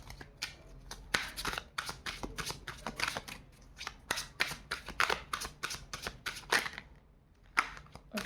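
Tarot cards are riffled and shuffled by hand in quick, crisp bursts of papery flutter, close and fairly quiet, with short pauses between shuffles.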